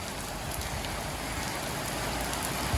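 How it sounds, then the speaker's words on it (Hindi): Heavy rain in Mumbai pours down as a dense, steady hiss of drops hitting surfaces, continuous and close, with no voices. "मुंबई का बारिश देखो, बारिश"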